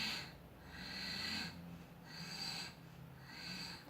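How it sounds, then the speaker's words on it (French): Slow, steady exhalations during a gentle breathing exercise for pelvic circulation, drawn out in soft repeated waves of breath about every second and a half, close and quiet with no talk over them. "et j'expire"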